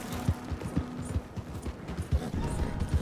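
Horse hooves clip-clop in a quick trotting rhythm in the video game Red Dead Redemption 2, close and fairly loud with a low rumble beneath, lasting about three seconds with no voices.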